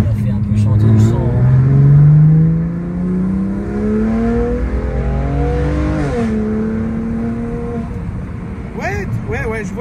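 Car engine revving hard: a loud, rising whine climbs through the revs, drops back and holds a steadier tone, with brief voices at the start and end.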